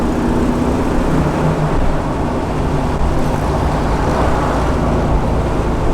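A 1969 Chevrolet Camaro Z28 on the move gives a loud, continuous engine drone and steady road rumble from inside the car, holding an even level throughout with no talk.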